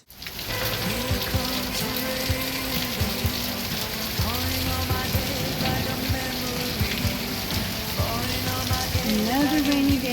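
Steady rain falls on a rainy day in Lubbock, a continuous dense patter that fills the whole stretch at an even level, with faint tuneful tones drifting over it.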